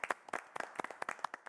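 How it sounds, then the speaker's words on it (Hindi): Studio audience on a Hindi talk show clapping in short, uneven bursts of scattered hand claps, moderately loud and close, with no voices over it. "ये सोच पे हम ताली मारेंगे।"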